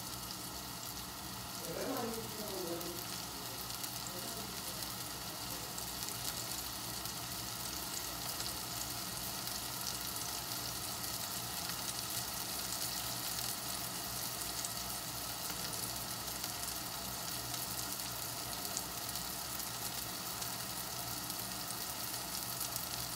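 Tuna sizzles in a frying pan with a steady, close crackle that lasts throughout, and a brief soft voice is heard early on.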